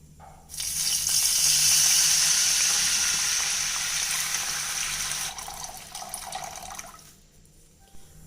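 Water poured into hot ghee with fried cashews on a gas stove, bursting into a loud sizzling hiss that swells quickly then slowly fades over several seconds.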